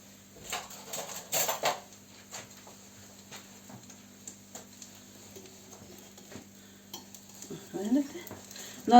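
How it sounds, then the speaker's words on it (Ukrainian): Soft sizzling of small pancakes (oladky) frying in oil, with intermittent clinks and scrapes of a utensil against a pan, fairly close, no talking. "Налили олію і на олії будемо смажити."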